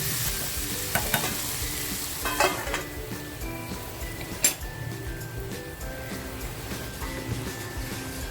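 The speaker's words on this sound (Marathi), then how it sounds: "आता जो टॅमेटो घेतला होता ना तो टॅमॅटो टाकते गॅस स्लो करून पाच मिनटं वाफेवर ठेवून घेते" Cluster beans frying and sizzling in a pan as tomato goes in, with a steady hiss, several stirring scrapes and light clinks of a spoon against the pan.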